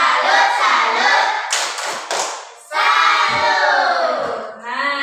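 A classroom of kids in a tepuk salut cheer, loud group chanting punctuated by a few crisp collective claps in a tight rhythm, then more chanting.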